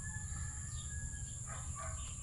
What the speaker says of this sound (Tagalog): Sarap, sarap pakinggan yung mga huni ng ibon.